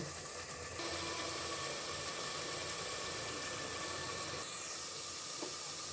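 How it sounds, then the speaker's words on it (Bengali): Ginger and garlic fry in hot oil for a layer chicken and potato curry, producing a steady, close, even sizzle that hisses without pause and without talk. "আদা রসুন আমি কষিয়ে নিচ্ছি"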